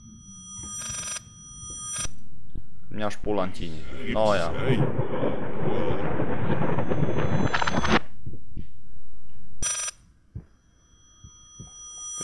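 Telephone ringing in the horror game Layers of Fear, a loud sustained electronic ring lasting several seconds, with short bursts of ringing before and after and someone talking over it.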